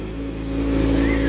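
A 2012 Yamaha YZF-R6 sport motorcycle engine revving up close, a loud steady mechanical drone with a strong tonal hum that climbs in pitch toward the end.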